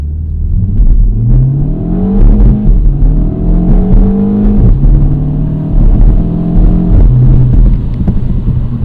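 A 2025 Mini Cooper JCW launches hard from a standstill on a wet road, its engine revving up in repeated climbing pulls with short breaks at each gear change, loud and close from inside the car.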